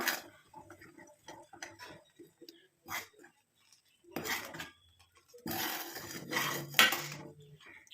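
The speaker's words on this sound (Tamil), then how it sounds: "இந்த பொடியை வந்து இது உள்ளே ஆட் பண்ணிடலாம் எல்லா பொடியும் உள்ளே போட்டு நல்லா மிக்ஸ் பண்ணி விட்டுருங்க" Herbal hair dye powder stirred into a pot: scattered clinks and scrapes of a utensil against the vessel, with a louder burst of metallic scraping toward the end, no talk.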